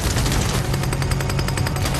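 Gunfire from armed troops in a film action scene, dense rapid bursts of automatic shots rattling continuously over a low rumble, loud and close with no pauses.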